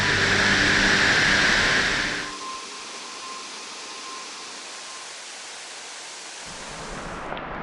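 Heavy rain pours down on a rural trip in Chaiyaphum, Thailand, a dense loud roar that drops to a steadier, softer hiss after a couple of seconds, with a low rumble underneath and no voices.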